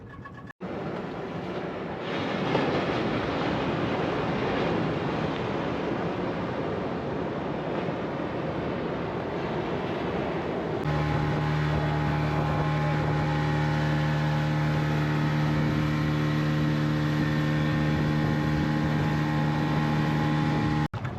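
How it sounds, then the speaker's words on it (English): Ocean waves roll in at a surf spot in Samoa, a broad continuous wash of surf and wind, later joined by a steady droning engine hum, with no talking. "Wave machine's running, waves are looking good."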